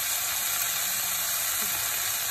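Beetroot and vegetables with a spoonful of apple vinegar sauté in a pan for vegetarian borscht, giving a steady, close, even sizzle throughout without talk.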